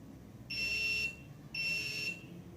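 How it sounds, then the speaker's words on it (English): An Arduino Uno medicine reminder box sounds its buzzer, together with an LED and a vibration motor: two shrill, steady electronic beeps of about half a second each, close and clear, with a short gap between them. "The buzzer and LED and vibration switched on together"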